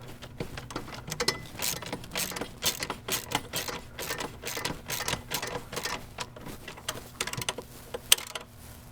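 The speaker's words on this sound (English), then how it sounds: "All right, got my wrench in place now." A wrench tightening bolts on a thrust vector nozzle for a BRP-powered boat: rapid, steady ratcheting clicks at close range over a low background hum.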